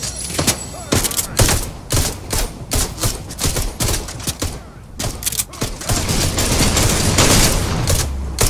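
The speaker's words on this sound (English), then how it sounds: "Those Dooley hand cannons are pure powerful." Rapid hand cannon gunfire in a Fortnite match, a dense run of loud sharp shots crackling one after another for several seconds, with faint game noise between bursts.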